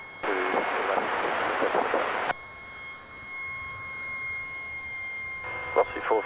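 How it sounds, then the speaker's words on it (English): A siren near Adelaide Airport signals that a skate park's lights are about to go out. It holds one steady tone at a distance for several seconds, partly under radio-style talk. "I'm guessing that's the siren for the lights about to go out at the skate park."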